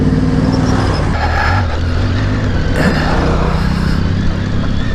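A car passes in road traffic beside a Yamaha Ténéré 700 motorcycle, a brief whoosh rising midway over the bike's loud, steady, close engine drone and wind noise, with no talking.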